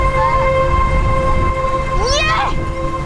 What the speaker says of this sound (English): Tornado sirens going off